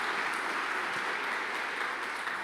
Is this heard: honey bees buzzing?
no